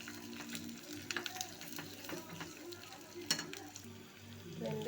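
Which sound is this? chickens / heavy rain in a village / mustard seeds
mustard seeds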